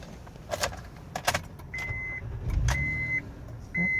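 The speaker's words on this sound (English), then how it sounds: "Car starts right up." Inside a 2012 Honda Ridgeline AWD, light clicks and key jingles come first, followed by soft electronic chime tones and a low engine catch that settles into a quiet idle.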